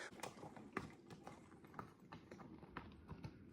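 Six to eight horses with cowboys passing on a wilderness section of the Pacific Crest Trail near Mount Adams. Hooves clip-clop irregularly on the ground, faint and slightly distant, with overlapping steps and no talking.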